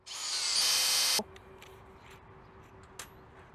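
A high-pitched power drill whirs loudly for about a second, then stops abruptly, leaving faint ticks and clicks in the quiet afterward.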